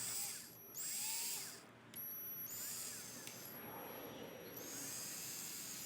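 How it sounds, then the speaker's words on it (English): A power drill bores screw holes into a wooden door while a self-closing hinge is installed, giving several high whining bursts that rise and fall in pitch between short pauses, close by with no talk. "Just kind of run the drill,"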